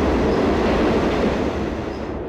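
A subway train runs through N City in the video game Danball Senki W, a steady close rolling rumble with rail clatter that fills the whole stretch without voices.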